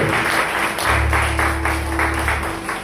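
A church congregation applauds in a steady, dense wash of clapping that carries on for the whole stretch, with a low sustained hum underneath.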